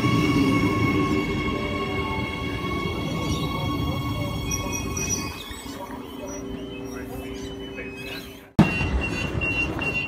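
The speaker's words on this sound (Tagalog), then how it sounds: "tumunog na, mukhang darating yung train" A train pulls into Brighton Station near Adelaide, South Australia, its low rumble and tonal whine building under a person talking, then dropping away before a sharp clunk and renewed noise near the end.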